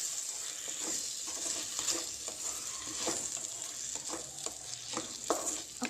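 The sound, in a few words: tomatoes and okra frying and being stirred in a pan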